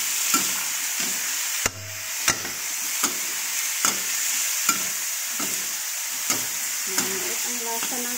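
Meat and vegetables for pancit sauté in a pan with a steady, bright sizzle. A spatula scrapes and taps the pan in a loose, repeated rhythm, close and clear.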